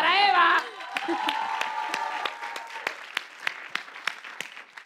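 An audience claps for a singer at a televised show, the applause swelling and then thinning into scattered claps, while a voice sings or calls out over the opening.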